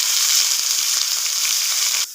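Minced meat fries in hot oil with ginger garlic paste, giving a loud, close, continuous sizzle that stays even and then drops off abruptly at the end.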